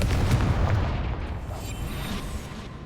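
Confringo explosion spell going off in Hogwarts Legacy: a deep, rumbling boom with bursting crackle, loud at first and then fading into a softer tail, with no talking.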